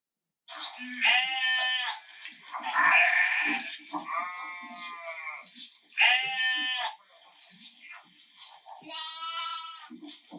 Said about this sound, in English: a lost sheep will often just bleat and call for help